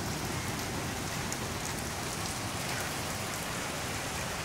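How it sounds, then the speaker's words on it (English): Heavy rain pours steadily during a sudden spring storm, a dense, continuous hiss of drops beating on outdoor surfaces, loud and unbroken throughout with no voices. "the rain has really picked up even since"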